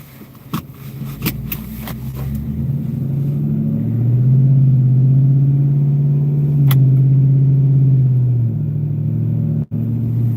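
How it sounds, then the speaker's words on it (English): A truck engine idles steadily from inside the cab, a low, constant rumble with a small rise in pitch partway through, after a few clicks and knocks at the start. "Is my truck loud? Like, can you guys hear it?"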